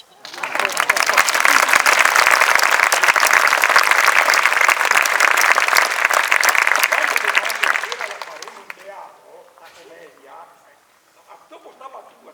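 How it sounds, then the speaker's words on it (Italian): Sustained, dense applause from a theatre audience during a Goldoni comedy rehearsal, loud and steady for about eight seconds before fading into quieter room noise. "Applauso."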